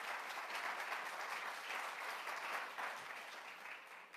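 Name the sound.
congregation applauding in church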